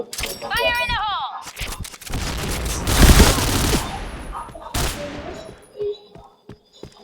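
Loud video game gunfire: rapid bursts of shots and a heavy, crashing volley, with voices talking over the action.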